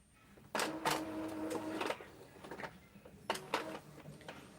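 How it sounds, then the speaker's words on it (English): A sublimation printer whirs and clicks through a print run, with bursts of mechanical movement and a short pause between them, close and moderately quiet, no speech. "this is my sublimation printer, and it's going to send to my printer really soon"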